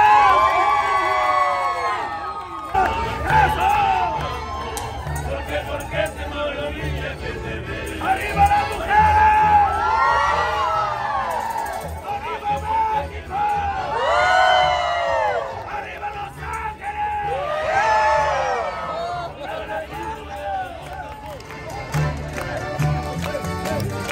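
Wedding guests in a callejoneada procession through Guanajuato cheer, whoop and shout loudly and continuously, with rising bursts of excited voices from a large crowd.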